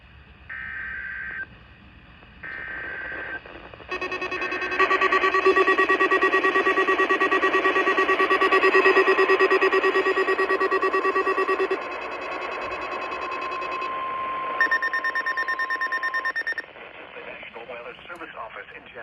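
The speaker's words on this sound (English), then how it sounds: "The preceding alarm tone was a test of the public warning system on our weather radio station West S85 in Ocala" An EAS alarm tone test on a NOAA weather radio station in Ocala: steady, loud two-tone electronic alarm held for several seconds, preceded by short data-burst tones and followed by broadcast audio, with a voice heard around it.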